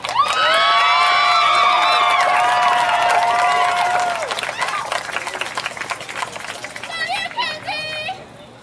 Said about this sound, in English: Please give a round of applause for Mackenzie Cox